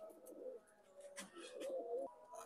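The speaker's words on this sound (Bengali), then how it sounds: "মাশাল্লাহ কবুতর" Young Rampuri pigeons coo softly in a pair, low murmuring coos repeating over about two seconds, fairly quiet and close with a little background noise.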